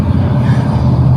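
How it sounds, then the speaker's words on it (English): Big truck rumbling past on a city street, a steady low drone heard from the background with no talk over it. "right now you can hear some big truck in the background because we're in the middle of the city"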